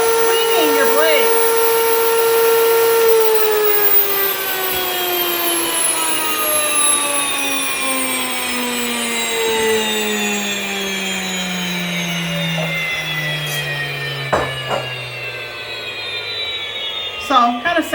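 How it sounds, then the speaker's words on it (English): A home electric grain mill, a fast model, gives off a loud mechanical whine, an engine-like roar whose pitch steadily drops as the motor winds down, with a few clicks near the end. "This is one of the faster mills on the market for home use."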